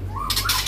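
White-rumped shamas (murai batu) in an aviary cage give short bird calls and chirps, with a rising whistle followed by a few bright bursts, fairly near and clear over a low steady background hum.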